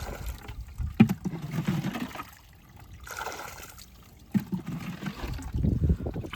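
Water leaking and trickling outdoors from a cracked PVC drip irrigation line, a steady low watery rush that swells and fades in uneven stretches with a couple of sharp knocks.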